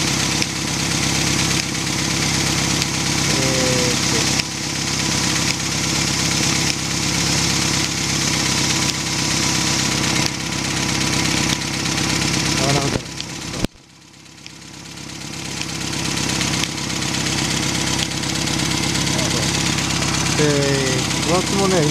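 A Rover Mini engine runs steadily while the throttle is slowly opened, a close continuous drone with a brief dip midway, under someone talking throughout.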